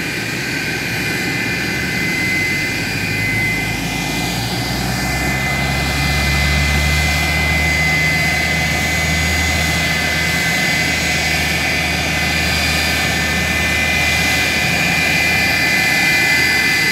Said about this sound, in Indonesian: memandu pesawat Airfast yang saat ini sedang pendekatan